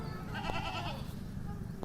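On a goat farm a goat gives a short, wavering bleat, close but partly masked by a constant rough background noise.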